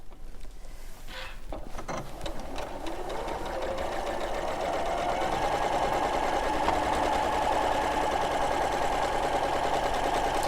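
A sewing machine runs at a steady, fast pace stitching fabric, its even mechanical whir and rapid needle clatter building up after a short start and holding close and loud to the end.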